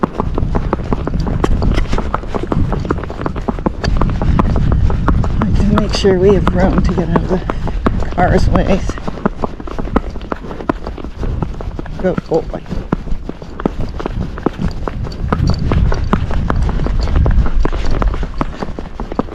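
A Tennessee Walking Horse named Bud racks along a road near passing cars, his quick, even hoofbeats drumming steadily while his rider talks over them.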